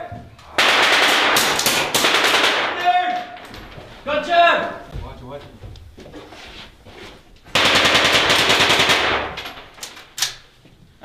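Machine guns fire in long, loud, rapid bursts during a U.S. Marine integrated training exercise, with shouted voices and radio chatter heard between the bursts.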